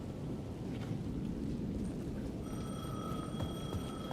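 Telephone ringing inside the Alan Wake 2 video game, repeated electronic ring tones entering partway through over a dense, rumbling ambient background, moderately loud with no speech.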